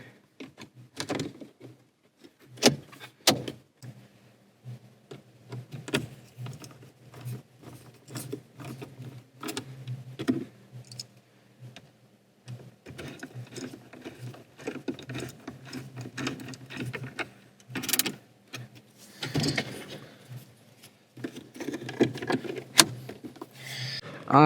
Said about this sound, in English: So I am now going to reinstall the shift boot and we will be done.